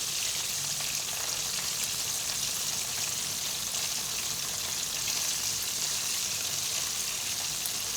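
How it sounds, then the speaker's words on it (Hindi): Chicken wings fry in hot oil over a medium flame, a steady, soft crackling sizzle that runs evenly throughout with no voices. "बहुत अच्छे तरीके से ये फ्राई हो रहे हैं, बहुत क्रिस्पी बन रहे हैं।"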